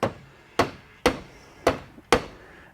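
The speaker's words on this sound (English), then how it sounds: "I take a dead blow. I mean, this is a plastic hammer, kind of a dead blow. Anyway, I kind of hit the clevis," Plastic dead blow hammer striking the clevis of a 2023 KTM 300XC shock during a rebuild, five sharp knocks at a steady rhythm, close and loud, with a softer tap between the last strikes.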